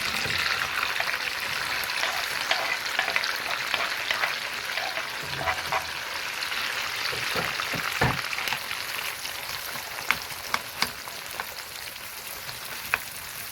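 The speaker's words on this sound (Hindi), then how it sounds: "ऑयल डालें, थोड़ा बटर डालें। इसका बघार बना रहे" Oil and butter sizzle in a pan as a tempering for dal is prepared, a steady close crackling hiss with scattered sharp pops and occasional stirring clinks, no talk.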